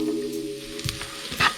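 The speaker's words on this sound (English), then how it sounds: "So my pan is hot again. A little bit of oil. And in goes the garlic." Chopped garlic hitting hot oil in a pan gives a soft steady sizzle, broken by a few utensil scrapes and taps, close up with no speech.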